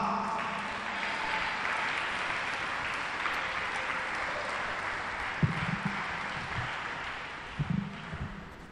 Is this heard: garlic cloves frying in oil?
no